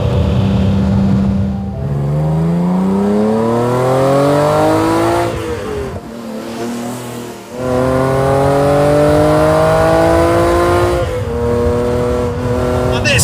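A 1980 BMW M1 homologation special with a 3.5 litre straight-six of about 277 bhp and a four-speed H-pattern gearbox revs hard, its pitch climbing through repeated gear pulls with brief dips between shifts, loud and close.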